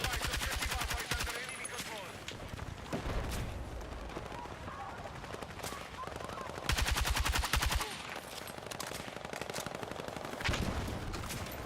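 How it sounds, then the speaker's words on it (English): Sustained automatic gunfire in Battlefield 6, rapid bursts rattling almost nonstop with louder close-range strings of shots at the start and middle and toward the end. "You're putting a lot of shots down range."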